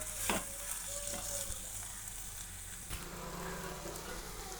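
Goat liver and heart curry with curry leaves is stirred in a pan, a quiet steady sizzle broken by a few soft spoon strokes.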